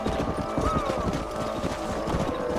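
Horses in the Western game Red Dead Redemption trot with steady overlapping hoofbeats and a brief whinny, a busy herd clip-clopping continuously up close.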